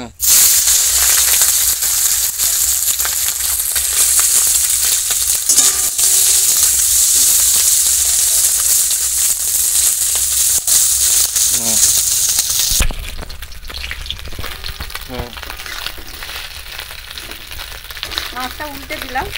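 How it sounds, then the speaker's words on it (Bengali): Small mourola fish fry in hot oil with a loud, dense hiss that holds for about thirteen seconds, then suddenly softens to a gentler sizzle with occasional scrapes and faint voice-like sounds. "এবার তেল দিয়ে মাছগুলো ভেজে নেব"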